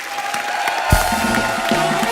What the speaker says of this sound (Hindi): एक बार जोरदार तालियां हमारे मेहमानों के लिए आई है भैया